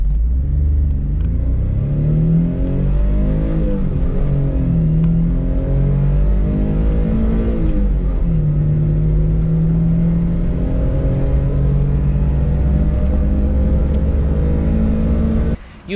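A 1993 Mitsubishi Bravo kei van's small five-valve-per-cylinder engine revs high with a steady loud drone, pitch rising and falling through several pulls across a long continuous run, close to the microphone and free of talk.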